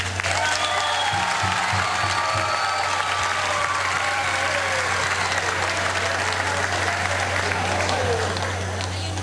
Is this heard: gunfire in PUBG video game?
no